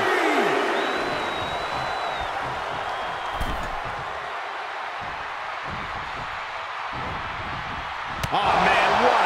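A crowd at a WWE Crown Jewel wrestling event keeps up a broad, steady roar and cheer, with thuds of ring action and a commentator talking over it.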